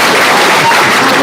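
Audience applause in a radio anniversary show setting, a steady broadband patter of many hands clapping close and loud for the whole short stretch, with no talking over it.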